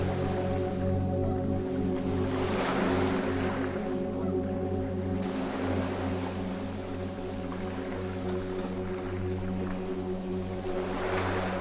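Ocean waves wash on a beach in slow swells rising and falling every few seconds, a soft continuous surf under a low steady hum.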